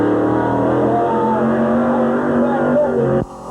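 A late model race car runs at Midvale Speedway in 1986, its engine holding a loud, steady, droning note close by before it cuts off abruptly near the end.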